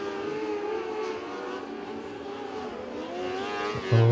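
Race cars at Millbridge Speedway roar in a sustained engine drone throughout, with a steady rising-and-falling tone and a louder surge near the end.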